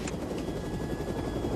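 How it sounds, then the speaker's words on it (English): A helicopter in flight in a crime action movie scene gives a steady close rotor drone with a low throbbing chop, continuous and fairly loud, with no speech. "I want you to land this helicopter."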